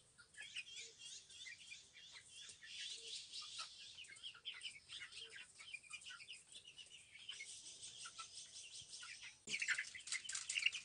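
Young Ameraucana chicks peep in a continuous high chorus from a brooder, many overlapping chirps close by, swelling slightly louder near the end.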